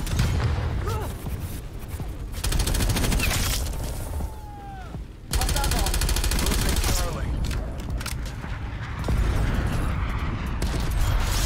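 Heavy gunfire and explosive bursts from a multiplayer match of Call of Duty Black Ops Cold War, loud and nearly constant, with rapid shots layered over booms and crashing impacts throughout.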